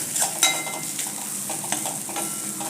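Bitter gourd cooking with onion-garlic masala and turmeric is stirred in a pan, a soft steady sizzle punctuated by several close scraping and clinking strokes of the spoon.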